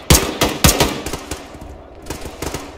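Rapid bursts of video game gunfire shooting out a window, several sharp loud shots in quick clusters early on, then lighter scattered shots, with a voice talking briefly.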